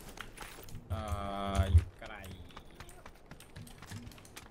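Clicking keystrokes from a computer keyboard during a PUBG session, a light scattered tapping that runs under someone talking close to the microphone.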